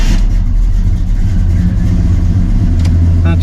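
A Blueprint 350 engine, one that has been dieseling after shutoff, runs loud and steady at close range. Its deep, even rumble holds throughout, with a few sharp clicks near the end and no talking.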